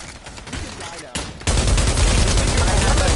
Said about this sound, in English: Oh, somebody's shooting you!